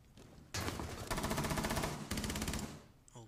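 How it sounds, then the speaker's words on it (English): Automatic gunfire in Rainbow Six Siege: two sustained bursts of rapid shots, the first about a second and a half long, the second shorter, fairly quiet overall with a brief pause between. "I'm shooting at dead body"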